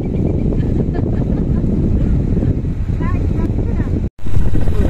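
A boat moves across the water in the Sundarbans with a loud, steady low rumble and wind buffeting close to the microphone, faint voices partly under it, and a brief dropout near the end.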